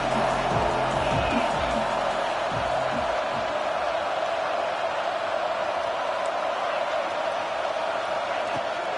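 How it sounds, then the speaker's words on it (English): A home crowd at a football game roars in a dense, unbroken wash of noise that holds steady for about nine seconds. A few shouts stand out near the start. "Man, this crowd really affecting the football game."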